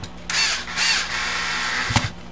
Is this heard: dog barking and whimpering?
no